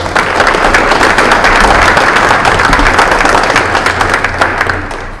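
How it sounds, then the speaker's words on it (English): An audience at a community discussion on policing in Rochester, Minnesota, breaks into loud sustained applause, many hands clapping steadily and densely without a break, tapering slightly at the end. "Would also like to thank the Rochester Police Department. Round of applause."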